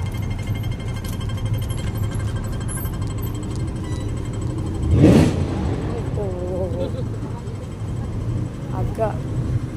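A Lamborghini passes with a rising exhaust roar that peaks sharply mid-clip, heard over constant street traffic and engine noise, with faint voices in the background.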